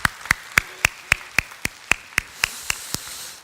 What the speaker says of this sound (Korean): 감사의 박수와 또 격려의 박수를